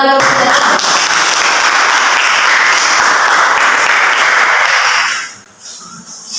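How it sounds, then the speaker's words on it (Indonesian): Classroom applause from students after a group presentation in a teaching-practice lesson: dense, steady clapping that holds for about five seconds, then quickly dies away to quiet room noise. "Ya, tepuk tangan."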